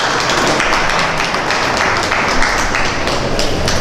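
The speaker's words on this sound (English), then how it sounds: "Let's give them a nice round of applause." Steady, dense applause fills the ring at a Holstein and Red and White dairy cow show, an audience clapping continuously for several seconds at even loudness.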